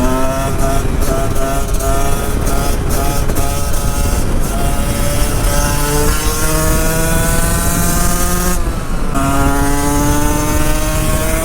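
A 2-stroke 125cc Husqvarna motorcycle cruising on a highway in sixth gear at speed, its engine droning steadily with a buzzing harmonic whine that shifts pitch as it changes revs, loud and close with wind rush throughout.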